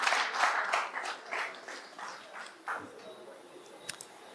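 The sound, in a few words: audience applause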